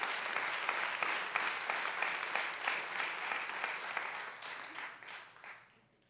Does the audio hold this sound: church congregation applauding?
yes